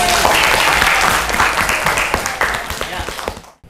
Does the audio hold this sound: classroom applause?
yes